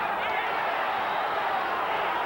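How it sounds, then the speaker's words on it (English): Loud, continuous roar of a cheering boxing crowd at a WBC 122 lb title fight, a dense sustained wall of voices that holds steady for the whole stretch. "A tremendous cheer goes up from the crowd"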